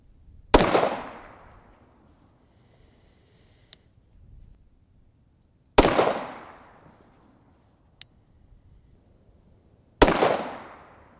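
Three loud, sharp Glock pistol shots fired at a target 20 yards away, spaced several seconds apart, each with a quick decaying echo, with faint handling clicks between them.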